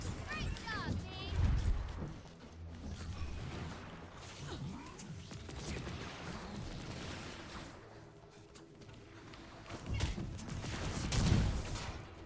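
Rapid bursts of turret gunfire with explosive crashes in a Marvel's Avengers battle, loud and continuous across the scene, mixed with game effects and talk.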